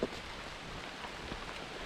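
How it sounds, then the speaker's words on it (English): Steady rain falls during a storm along the Appalachian Trail, a dense, even patter that is fairly close and unbroken, with no voices. "let's just listen to the sound of the storms for a moment, shall we? The rain."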